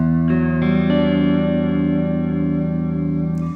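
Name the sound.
guitar through warped vinyl modulation pedal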